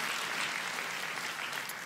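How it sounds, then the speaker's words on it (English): A church congregation claps in response to a pastor during a sermon. The dense, even applause is close and steady and fades slightly near the end, with no talking. "I'll take one clap."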